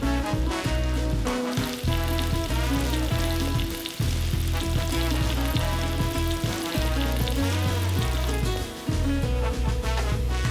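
Fish pieces deep-frying in oil held around 325 degrees inside a remote ice shelter, a loud, dense, continuous sizzle and crackle that fills the whole stretch with no talk.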